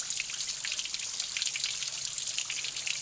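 Water spilling over small falls on the Foothills Trail makes a continuous bright splashing rush with fine dripping and trickling detail, close by and steady, with no voices.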